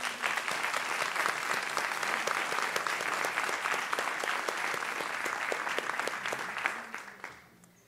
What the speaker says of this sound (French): Je pense que ça mérite une main d'applaudissement.